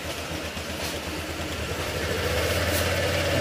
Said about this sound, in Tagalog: Ayan. Tahimik ko lang yung makina niya.